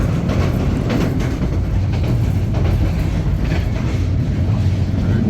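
Rangpur Express passenger train running on rails, a steady loud rumble with rhythmic clatter of the cars throughout, heard from on board.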